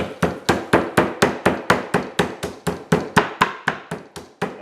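A rolling pin pounds raw chicken breast flat on a board, about twenty sharp, evenly spaced thumps in a steady rhythm, loud and close with no talking.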